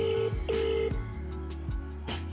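Telephone ringback tone repeating in steady rhythm as a call to a sports car seller goes unanswered, a clear electronic ring tone with soft clicks, no voices.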